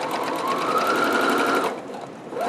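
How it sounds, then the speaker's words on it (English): A sewing machine runs fast along the side and pocket of a fabric locker caddy, a loud, continuous buzzing whir that stops abruptly partway through, leaving a quieter hum. "I'm going to go forward, sewing to the end of that pocket"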